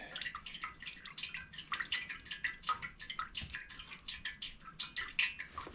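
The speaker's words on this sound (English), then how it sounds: "Just gonna let that drain for a bit." Oil draining from a pan, a steady run of small close drips and trickles with a wet, liquid patter throughout, and no talking.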